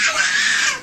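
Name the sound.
children screaming and crying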